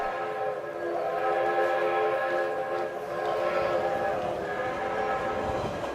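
A train pulls out of Union Station with a sustained whistle or horn over the low rumble of rolling cars. The sound comes from a 1930s radio drama recreation, and a voice is faintly present.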